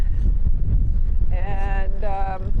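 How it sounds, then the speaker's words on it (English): Strong wind roars across the microphone while cycling through Bosnia and Herzegovina, a constant buffeting rumble with a faint harmonic whine rising briefly in the middle. "I think it's going to be a windy day."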